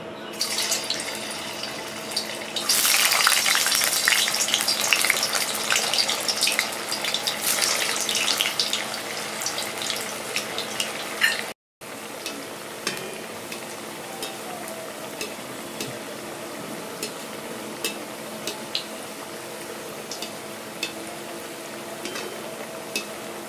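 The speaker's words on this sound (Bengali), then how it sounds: "তেল গরম হয়ে গেছে, এবার আমি এক এক করে বড়াগুলো ভেজে নিচ্ছি।" Medu vada drop one by one into hot oil, each bringing a loud burst of bubbling sizzle that settles into softer crackling frying, with a brief break midway and no talking.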